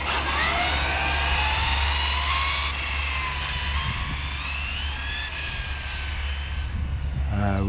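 Arrma Infraction RC car under hard throttle, a loud high electric whine rising in pitch as it accelerates, steady and close with a shifting tone near the end.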